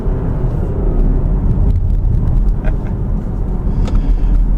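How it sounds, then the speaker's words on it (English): Engine of a 2014 Audi A6 Allroad with the 3-litre diesel, dropped down a gear in manual mode and pulling hard through a bend; a steady loud low drone with road roar fills the cabin throughout, no talking. "I think if we just engage manual mode and drop it down a gear going around this next bend"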